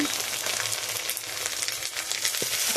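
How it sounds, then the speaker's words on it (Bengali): Ginger and garlic paste with spices frying in a pan over browned onions makes a dense, bright crackling sizzle, constant and close, with a soft stir or two and no talking. "এবার মশলাগুলো দিয়ে দেবো আদা বাটন রসুন"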